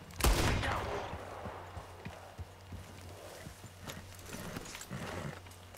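A single loud gunshot rings out near the start while hunting rabbits in Red Dead Redemption 2. Quieter clip-clop hoof sounds and light game ambience follow.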